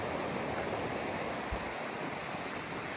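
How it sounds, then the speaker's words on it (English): Ocean surf rolls in at Morro Strand beach on the California coast, a loud, steady wash of waves that fills the whole clip with constant broadband roar and slight wind noise. "Hopefully you can hear me over the waves."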